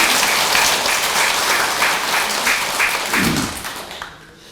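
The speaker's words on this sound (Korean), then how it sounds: "좋은 일에 박수 한번 더 치자고." Audience applause fills a Buddhist Dharma assembly at Beomeosa temple. The dense, loud clapping holds steady, then tapers off near the end.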